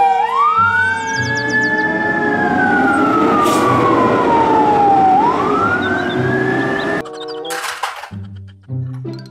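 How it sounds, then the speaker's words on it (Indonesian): A toy fire truck siren wails loudly and steadily, its pitch sweeping down and back up over several seconds before cutting off into a few clicks and rattles. "Mobil pemadam kebakaran."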